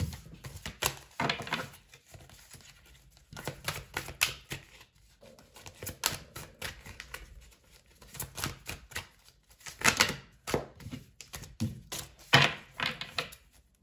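Tarot cards are shuffled and drawn during a reading, giving repeated close riffles, flicks and soft taps on a table in irregular bursts, fairly quiet with no talking.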